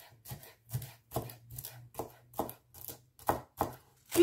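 A knife roughly chops coriander on a board in about ten steady, evenly spaced strokes, each a crisp close thud, with no talking.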